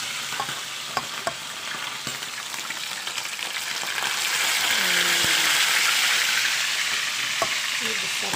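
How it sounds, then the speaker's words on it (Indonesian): Marinated mackerel frying in hot oil, a steady loud sizzle and crackle with occasional pops, rising to a fuller hiss partway through, no talking. "Jadi kita goreng dulu ikannya."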